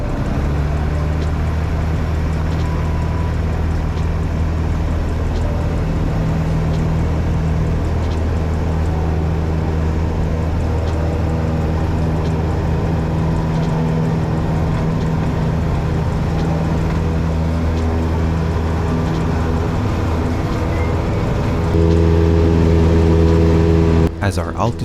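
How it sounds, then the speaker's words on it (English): A Cessna 172 engine drones steadily at full throttle during takeoff, a loud close propeller hum with stable low tones that rise slightly in pitch toward the end, with talk over it. "within minutes the engine was set to full throttle, and before we knew it, we were sailing through the air"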